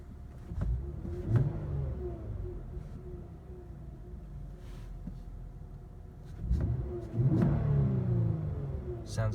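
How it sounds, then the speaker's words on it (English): A 2016 Lexus GS350 F-Sport's V6 engine is revved twice from idle, each blip swelling to a loud, smooth roar before settling back to a steady low hum, heard close with no talking. "Now let's go ahead and rev her up and see how she sounds."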